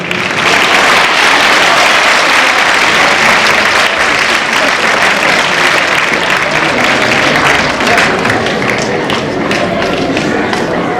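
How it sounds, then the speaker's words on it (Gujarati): Loud, dense applause from a large audience at a high school inauguration, a steady wash of many hands clapping that holds for about eleven seconds with faint voices underneath. "હું જુલેખાબેન ને વિનંતી કરી ખાસ તાળીઓ પાડો તમે."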